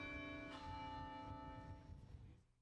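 Campus church bells rung by a master bell ringer in Chapel Hill, a sustained ringing with layered tones that hum on steadily, then thin out and fade near the end.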